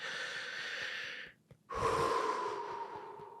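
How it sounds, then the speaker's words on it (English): A deep breath drawn in and let out again, done as part of a guided tapping exercise: a long steady breath-noise that stops briefly and then returns more strongly, heard alone and up close with no talking. "take a nice big deep breath"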